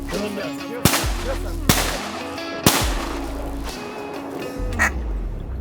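Many ducks quack nonstop on the opening day of duck hunting while several sharp shotgun blasts crack out one after another, and there is faint talk now and then.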